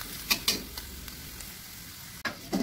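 Shallots fry in hot oil in a wok for street-cart chicken noodles, a soft steady sizzle broken by a few sharp clatters of a utensil stirring against the pan.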